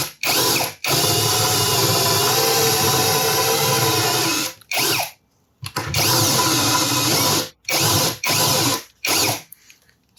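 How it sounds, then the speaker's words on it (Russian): A power drill bores a hole through a chipboard table top in several bursts, each running a few seconds at a steady high whine, with short silent pauses between runs. "Сейчас просверлим, чтобы верхняя крышка"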